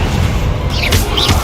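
A Confringo fire spell blast in the Hogwarts Legacy video game booms out against a dense, constant wash of game noise, with brief bright flares partway through.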